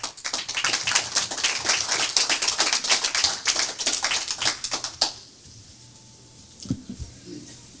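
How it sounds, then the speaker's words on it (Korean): A modest audience at a Korean-American celebration of a presidential election win claps to welcome a speaker, quick close-miked claps for about five seconds that then stop abruptly, leaving a quiet room with a few faint bumps. "나오시면 박수로 환영해 주시겠습니다."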